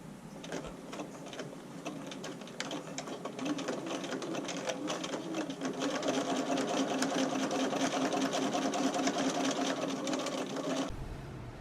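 A domestic sewing machine runs steadily in a zigzag stitch with the needle shifted fully to one side, a fast continuous whirring hum that builds slightly and stops abruptly near the end, close and alone without talk.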